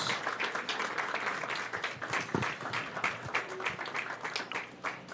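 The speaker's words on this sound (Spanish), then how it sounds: "dele una ofrenda de palmas al que vive, al que reina por los siglos de los siglos" A church congregation gives an offering of applause, many hands clapping together in a thick, continuous roar with occasional sharper claps and faint voices mixed in.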